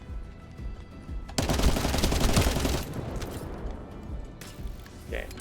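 Rapid automatic fire from a turret in The First Descendant, a dense loud burst of gunfire running for about a second and a half, then tapering into a lingering rumble with game noise underneath.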